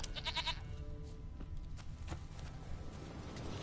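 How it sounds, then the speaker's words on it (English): Bleating goat from The Witcher 3, a few short bleats near the start followed by faint scuffs and ambient game background. "Here, goat."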